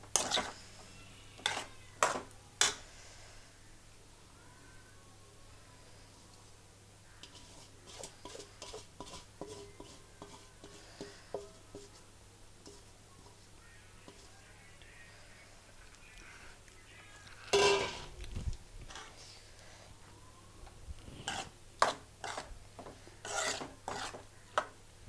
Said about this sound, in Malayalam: ഒരു സെക്കൻഡ് ഒന്ന് ഇളക്കി കൊടുക്കുവാണേ